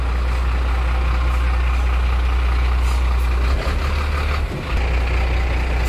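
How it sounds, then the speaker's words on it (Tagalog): A large truck passes close by with a loud, heavy low-frequency engine rumble that holds steady throughout, then briefly dips and shifts near the end as it moves past. "Ang lalaking truck na dumadaan doon po dito"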